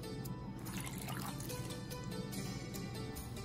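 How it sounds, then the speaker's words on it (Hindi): A cup of water poured into a pan to start sugar syrup for gram flour barfi, a steady close trickle and splash over constant kitchen background noise, with no talking. "और इसमें हम डालेंगे 1 कप पानी।"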